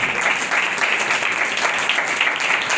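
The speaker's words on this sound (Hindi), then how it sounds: "जोरदार तालियां" A church congregation claps loudly during a sermon, producing a dense, continuous round of applause that holds steady throughout.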